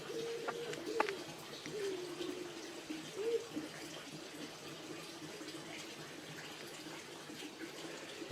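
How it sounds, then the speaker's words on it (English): Steady broadband rush of running water near an old barn in the Cuckmere Valley, continuous and moderately close, with a pigeon or dove cooing intermittently over it in the first few seconds and no talking. "The sound of water."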